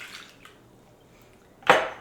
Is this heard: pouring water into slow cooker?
yes